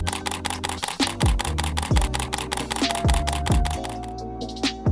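Rapid bursts of a camera shutter firing repeatedly in quick succession, close and crisp, a steady mechanical clatter filling the clip while snowy toy photos are taken.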